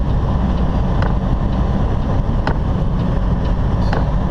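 Blizzard wind roars around a truck on the highway, a loud, constant buffeting rush with a low rumble beneath and occasional sharper gusts or knocks, steady throughout with no voices.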